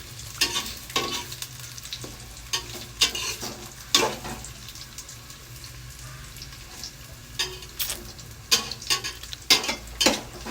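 Food sautéing in a pan, a low steady sizzle under repeated sharp scrapes and clinks of a utensil stirring against the pan, close and fairly quiet.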